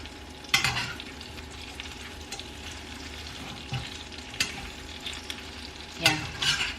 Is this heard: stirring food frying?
yes